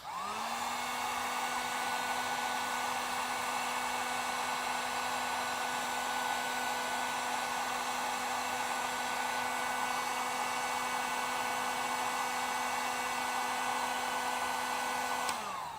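A heat gun blows hot air in a steady, loud whir with no break from start to finish, nothing else heard, while it is swept over the top and bottom of parts being prepared for an off-grid power system.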